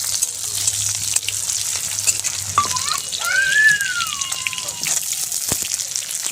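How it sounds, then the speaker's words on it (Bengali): Chopped onion and chilli sizzle steadily in a pan, a loud, continuous close-up frying hiss with a brief higher squeak partway through and no talking. "যেহেতু ভাজাটা করবো তার জন্য পেঁয়াজ হালকা অল্প ভাজলাম"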